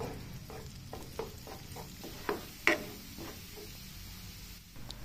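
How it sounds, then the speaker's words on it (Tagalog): Garlic sautéing in melted butter sizzles steadily in a pan, broken by repeated spatula stirs and scrapes, including a few sharper knocks near the middle. "Sunod, magisa ng bawang."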